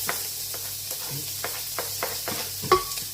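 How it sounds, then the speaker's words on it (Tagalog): Chopped garlic and onion fry in a little preheated oil, a low sizzle broken by periodic scraping stirs of a spatula in the pan and one brighter clink near the end. "At i-fried ko ang ahos at saka sibuyas bombay"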